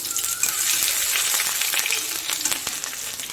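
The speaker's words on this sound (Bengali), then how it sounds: "গোটা জিরে, একটু গোটা গরম মশলা দিয়ে ফোড়নটাকে একটু ভেজে নেব।" Whole cumin and whole garam masala crackle in hot oil as a tempering, with a bright, dense sizzle and scattered pops close up, steady throughout with no talking.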